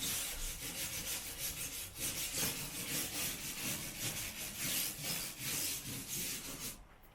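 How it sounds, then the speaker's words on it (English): An aluminium surface is roughed up by hand abrasion in quiet, rhythmic back-and-forth rubbing strokes, about a dozen in a row, close by with no talking. "if I just rough up the surface where it's going to come to"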